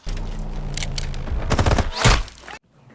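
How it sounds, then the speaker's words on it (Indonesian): A shootout in a movie scene about a kidnapped flight attendant, with dense rapid gunfire and heavy thumping impacts that build to a loud blast before cutting off abruptly. "kini mereka datang di saat yang tepat dan baku tembak pun tak terelakkan lagi"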